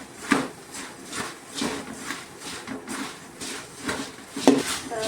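Puffed rice being stirred with turmeric and salt in a pan, giving a series of scraping, clattering utensil strokes at a steady, moderate loudness with no talking.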